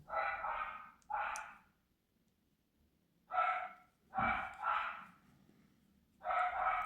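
Indoor dogs at home bark in several separate bursts with quiet gaps between them, fairly faint and with no talking over them.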